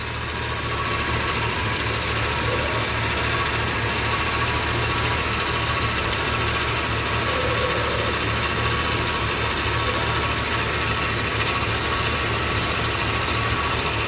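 A 1999 Jeep Cherokee XJ two-door with its 4-liter engine runs at a steady idle, with a constant low rumble and a ticking, ratcheting mechanical clatter, close and loud throughout.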